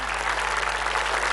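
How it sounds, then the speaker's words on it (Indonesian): A studio audience at an Indonesian TV game show applauds for a performer, a short burst of dense, loud clapping that runs uninterrupted. "Kita beri tepuk tangan sekali lagi untuk Mas Budiman."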